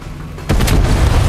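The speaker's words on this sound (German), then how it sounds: "So, können wir das mit einem Dynamit wegsprengen?" A dynamite blast blows up a cannon in the video game Far Cry 6, one sudden loud boom followed by a sustained rumbling roar.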